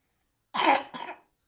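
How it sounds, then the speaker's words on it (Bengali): A child gives a short double cough, two quick close bursts in a row with silence before and after. "কাশি দাও একটা"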